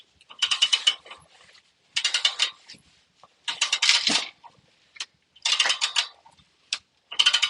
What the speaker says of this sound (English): we break the bolts, the breaker bar, make them loose